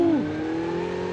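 A motorbike engine in Call of Duty Mobile gives a brief rev that drops in pitch, then settles into a steady, close hum.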